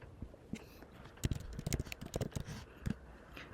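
Typing on a MacBook keyboard, entering a web address: a run of light, quick key clicks in an uneven rhythm, close and fairly quiet, with a few sharper taps near the end.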